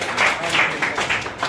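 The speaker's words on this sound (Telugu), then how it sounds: "క్లాప్స్ కూడా వచ్చినాయి అయిపోయాయి." Family members applauding at a wedding anniversary celebration: a short burst of several hands clapping together, moderately loud and close, with voices mixed in.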